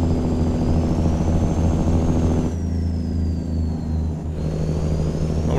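A Cummins N14 truck engine in a modded driving game pulls hard around 1600-1700 RPM, a loud, deep, continuous roar with a whining tone that shifts pitch as the revs change.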